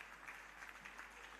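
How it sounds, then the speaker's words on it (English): Conference audience applauding at an annual general meeting and scientific conference, a steady dense wash of clapping that holds evenly through the short moment. "Can we clap for ourselves"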